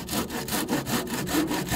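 A hand saw cuts through a log in a building project for a saw shed, giving even rhythmic rasping strokes about four per second, close and steady with no speech.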